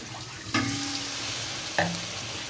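Jujube and tamarind pickle with chili, turmeric and salt stirred and fried in a pan: a steady sizzle throughout, with two brief scrapes of the spoon against the pan, no voices.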